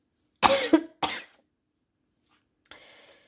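Two sharp coughs close to the mic, followed after a pause by a softer, breathy throat sound.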